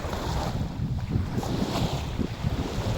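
Sea waves at high tide roll in on an island shore, with low surging wash and heavy wind buffeting the microphone over a few seconds.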